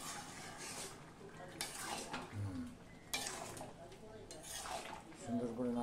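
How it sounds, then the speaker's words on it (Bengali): A prawn and Malabar spinach curry is stirred in a pan, with a ladle clinking and scraping against the metal in irregular strokes, low and close, with only a faint simmer underneath. "সুন্দর করে নাড়াচাড়া করে নিতে হবে"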